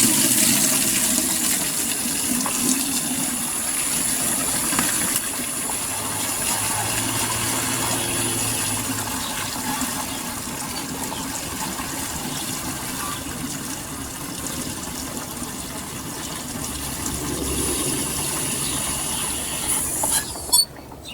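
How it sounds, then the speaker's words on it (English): A stock pot is filled from a gushing water source, a constant rushing, hissing stream that holds steady for about twenty seconds before cutting off with a final clunk. "Then you're going to fill it up with water."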